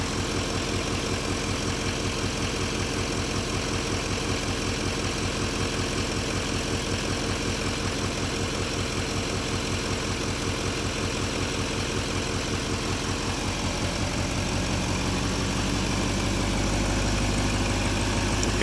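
An LML Duramax diesel engine idles with a steady low throb, then its speed rises and the tone climbs for the last few seconds, heard alone and up close.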